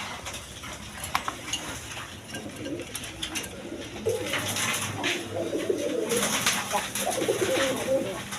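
Rasgolla pigeons at a sale coo in low, repeated calls that grow busier in the second half, mixed with light metallic clinks and a voice talking over them.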